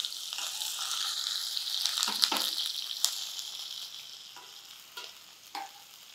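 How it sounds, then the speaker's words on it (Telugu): Thinly sliced onion goes into potatoes already frying in a pan, and a steady sizzle hisses throughout, with a few stirring clinks and scrapes breaking through near the start, middle and end. "ఒక ఉల్లిపాయ సన్నగా ముక్కలు తరిగాము, అది వేసుకుందాం"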